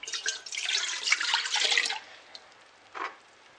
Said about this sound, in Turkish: Şimdi 3 çay bardağı ılık sütümüzü koyuyoruz